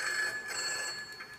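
A telephone ringing in the Roblox game GCC Confined, a steady electronic trill with high bell-like tones, moderately loud and alone for about a second and a half.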